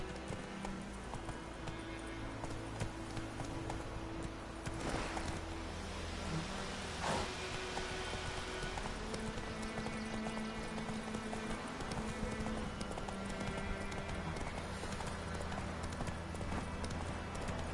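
The horse Roach galloping in The Witcher, with steady rapid hoofbeats running throughout at close range, a faint neigh, and a dense ambient bed beneath.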